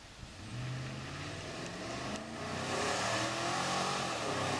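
A 2012 Cadillac Escalade with a 6.2 liter V8 engine revs, a steady close engine roar that grows slightly louder as it climbs.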